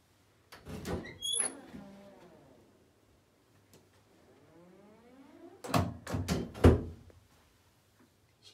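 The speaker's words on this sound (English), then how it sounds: "Sprinkler, an old Norton door closer, and another Siemens heat detector." An old Norton door closer draws a door shut. Clunks and rattles come near the start, then a slow creak follows, and the door lands with several loud thuds near the end.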